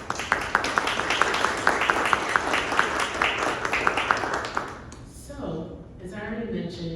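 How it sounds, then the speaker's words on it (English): Audience applause for honorees at a New York State Senate Commendation Award ceremony, steady rhythmic clapping from a room of people that fades out after about five seconds, followed by a voice speaking. "So give yourselves a round of applause."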